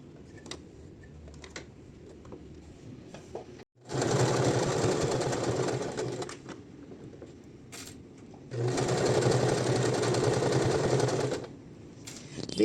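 A sewing machine runs in two loud, steady bursts while stitching all the way around a soft fleece slipper boot, with quieter handling and a few clicks in the pauses between.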